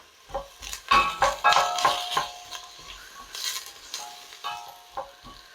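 Peeled potato pieces soften in hot oil in a pan for a cream of broccoli soup, giving a lively sizzle broken by clattering stirs and utensil knocks against the pan.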